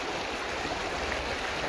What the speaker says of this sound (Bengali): এইখানে জল পড়ছে, অন্ধকার হয়ে আছে